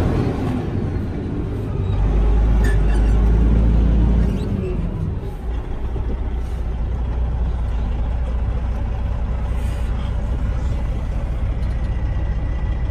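A 2009 Freightliner Cascadia 125 truck's engine runs with a steady low diesel rumble close by, swelling louder for a couple of seconds early on before settling into an even idle.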